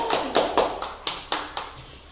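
Family members clap for the winner of a spicy food challenge at home, about eight quick, sharp claps in an uneven rhythm, close and clear.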